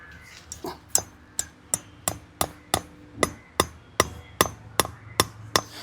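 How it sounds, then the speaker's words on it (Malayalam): A hammer drives a nail into a mud brick with about fourteen sharp, evenly spaced strikes, loud and close, each blow ringing briefly before the next. "ഒന്ന് ആണി അടിച്ച് കാണിച്ചു കൊടുക്കും"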